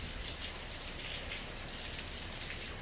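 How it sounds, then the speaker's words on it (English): Steady outdoor rain patters softly and evenly on surfaces, a quiet, continuous wash of drops with no voices. "Because it's raining."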